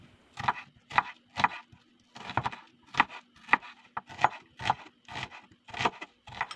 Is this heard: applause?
no